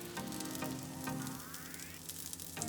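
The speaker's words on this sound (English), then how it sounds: "Fry slowly over medium-low heat." A pollock fish pancake fries slowly in a pan over medium-low heat, giving a steady close sizzle with faint clinks and a rising whine in the background.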